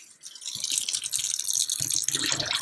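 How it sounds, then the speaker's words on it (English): Pickling liquid pours out of a jar into a kitchen sink, a steady close splashing gush that runs for about two seconds after a brief pause. "dump it in the sink"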